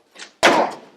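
A door is shut in a scene from an Arabic TV drama series: a faint swish, then a single loud, close thud that rings out and fades.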